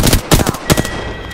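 Automatic gunfire in Apex Legends: two quick bursts of sharp, loud shots in rapid succession, close and punchy, followed by a fading ring.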